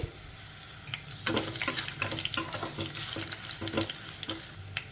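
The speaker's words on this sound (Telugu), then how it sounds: "మీడియం ఫ్లేమ్లో ఇలా కలుపుకుంటూ మంచి కలర్ వచ్చే వరకు ఫ్రై చేసేసుకోవాలి" Tomatoes and dried red chillies fry in a pan over medium flame while being stirred, giving a steady close sizzle broken by repeated scraping and stirring clatter, with no talking.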